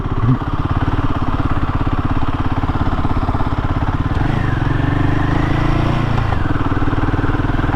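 A Royal Enfield Himalayan 450 motorcycle engine in second gear runs steadily and loudly throughout, its pitch rising partway through as the revs climb, then easing back near the end.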